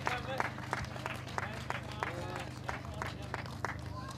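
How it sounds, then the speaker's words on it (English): Scattered clapping from an audience at a race prize-giving after a 10K run, sparse and uneven claps under a voice over the PA, with a steady low hum behind. "Come on, give him a big round of applause."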